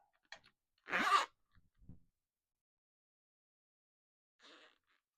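The zipper on a freshly sewn fabric wristlet bag gives one short rasping zip, then a few faint taps and a softer brief zip after a pause, close and quiet.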